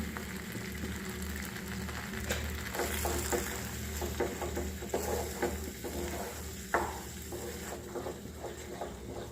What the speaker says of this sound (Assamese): মছলাখিনি 2-3 মিনিট ভালদৰে ভাজি ল'লোঁ।